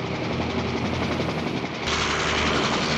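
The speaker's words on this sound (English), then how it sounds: "Oh, we got a chopper. Chopper heading in." Helicopter flying in during an action scene from the 1963 film From Russia with Love, a steady loud rotor and engine roar that swells in the second half, with no voices over it.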